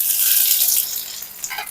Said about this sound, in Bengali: এবার কয়েকটা কারি পাতা দিয়ে দিচ্ছি। ভীষণ ফুটছে,